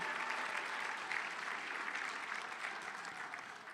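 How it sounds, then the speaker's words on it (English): Guests at a fundraising gala applaud donors, a continuous, moderately distant round of clapping from a sizable crowd that tapers gently over a few seconds. "Let's give all of those donors a big round of applause"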